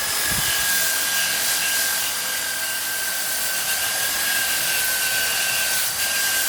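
A buffing wheel with a polishing mop works the gasket face of a Ducati 4V cylinder head, making a loud, continuous high whine with a steady tone. It runs without a break and no one speaks.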